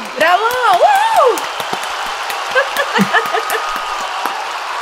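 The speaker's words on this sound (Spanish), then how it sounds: "Y el aplauso que siempre quiso escuchar. Que suene muy fuerte para Luis Sliming." At the Viña del Mar Festival 2024, a large crowd applauds comedian Luis Slimming, opening with loud whoops and shouted cheers before settling into a steady, pattering wash of clapping that carries on alone.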